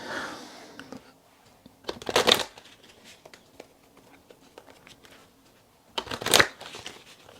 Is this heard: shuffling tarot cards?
yes